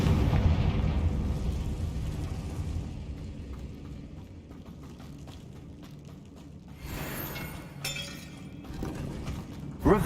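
A Confringo blasting curse bursts in Hogwarts Legacy with a loud shattering, explosive crack at the start that decays into rumbling debris, followed by fainter crackling bursts and a final sharp hit at the end.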